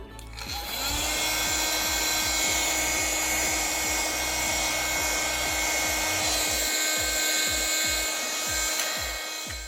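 A vacuum cleaner runs steadily and loudly for the whole stretch while it dusts a Lego Star Wars Republic Dropship with AT-OT Walker building set, its even whine broken by repeated bumping and rubbing of the nozzle against the plastic bricks.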